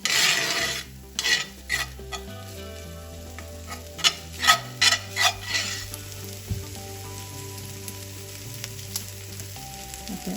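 Tomato is stirred and fried in a pan, with a constant sizzle under a series of scraping stirring strokes and soft utensil clinks, close up and with no talking.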